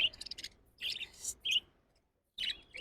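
Small caged birds chirping at a bird farm in Bangladesh, several bright, high tweets in short clusters with a brief pause between bursts, close and clear with no talk.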